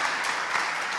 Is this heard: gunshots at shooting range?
no